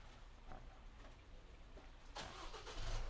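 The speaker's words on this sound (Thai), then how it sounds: "ครบ3วินาทีเครื่องยนต์สตาร์ทเลย" A Mu-X or D-Max pickup engine, started by remote, cranks and catches after a low background hum, then settles into a steady idle rumble, heard from nearby.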